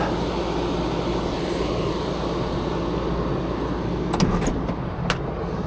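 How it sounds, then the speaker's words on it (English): A truck engine idles steadily close by, a continuous low rumble with a few brief clicks and knocks near the end and no talking. "We'll let that truck idle."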